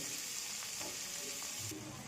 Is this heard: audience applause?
no